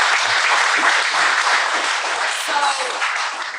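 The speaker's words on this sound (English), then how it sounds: "Clap it up. Clap it up." An audience claps in sustained applause at a talk or interview event, a dense wash of many hands holding steady and then easing slightly toward the end.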